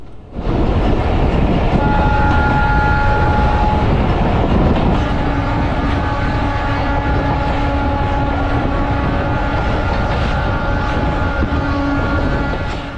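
The Modhumoti Express with its old vacuum-brake rake roars past close and loud, sounding long horn blasts over a continuous rumble of wheels on track.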